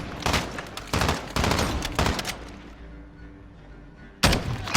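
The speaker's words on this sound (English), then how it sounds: "taking fire!" Gunfire in the Call of Duty Warzone video game: several loud rapid bursts of automatic shots, pausing briefly before another burst at the end.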